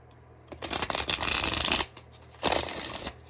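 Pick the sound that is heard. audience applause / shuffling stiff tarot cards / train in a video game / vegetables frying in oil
shuffling stiff tarot cards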